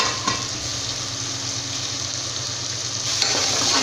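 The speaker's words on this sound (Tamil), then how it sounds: "தக்காளி ஆட் பண்ணி நல்லா வெங்காயத்து கூட நல்லா மிக்ஸ் பண்ணிக்கணும்." Tomatoes and onions sizzle steadily in a hot pan for vegetable biryani while a utensil stirs and scrapes through them, close up and continuous, with no talking.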